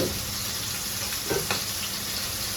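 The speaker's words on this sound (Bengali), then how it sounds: "তো এখানে আমার মশলা কষানো হচ্ছে, ভালো করে হোক কষানো" Spice paste of ground green chilies and onion sautéing in a pan at home, giving a steady close sizzle and hiss with a couple of brief scraping stirs.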